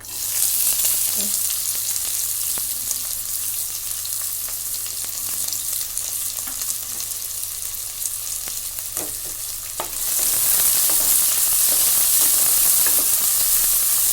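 Cubed large onions fry in a hot pan for a village-style chicken curry, a steady loud sizzle running throughout with occasional stirring scrapes and a brighter surge of hissing near the end.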